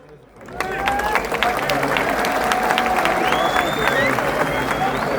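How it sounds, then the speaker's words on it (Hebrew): A large crowd of several thousand applauds and cheers at a live concert. Dense, sustained clapping starts abruptly after a brief quiet moment and stays loud and steady, with scattered whistles and shouts rising above it. "מחיאות כפיים"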